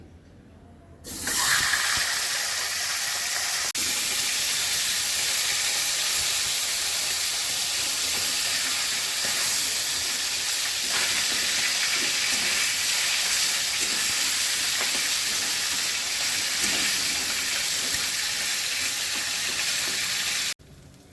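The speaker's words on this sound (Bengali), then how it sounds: "মাছের মাথাগুলো প্রথমেই ভেজে নিচ্ছি।" Fish heads fry in hot oil with a loud, steady hiss and crackle that starts abruptly and runs unbroken before cutting off.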